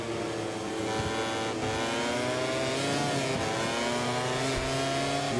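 A MotoGP racing motorcycle in the MotoGP 24 video game at Jerez, its engine roaring and revving continuously and loudly throughout, with rising and falling pitch as the bike accelerates, and no talking.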